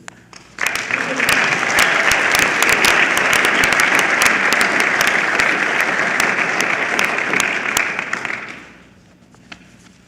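Loud, sustained applause from a commencement ceremony crowd, steady clapping for about eight seconds before fading out to near silence.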